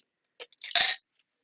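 Plastic dice clatter briefly as they are shaken out of a dice jar, a few light clicks building to one short, close rattle, then silence.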